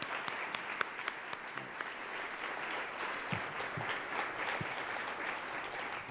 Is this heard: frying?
no